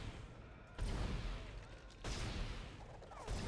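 Dense gunfire in the sci-fi horror game Dead Space comes as a loud, sustained barrage, rising in waves with harsh noisy bursts and rumbling that barely let up.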